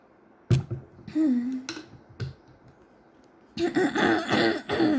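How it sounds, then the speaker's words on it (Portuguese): A couple of throat clears and short coughs, close to the mic, separated by quiet pauses, followed by a person talking. "minha garganta está com tosse agora no momento"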